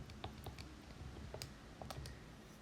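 Button presses on a calculator come as a quick, irregular run of soft, close clicks, entering numbers for a combinations problem in a math lesson.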